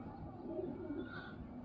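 Pigeons kept at a home loft cooing softly at close range, one brief low throaty coo with faint background noise and no speech.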